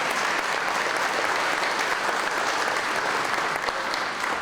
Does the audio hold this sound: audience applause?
yes